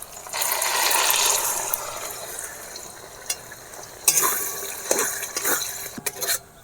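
A spoon stirs mashed green pea kachori filling with oil, ginger and green chilli paste in a frying pan, giving soft scraping and gentle sizzling with a few sharp knocks against the pan.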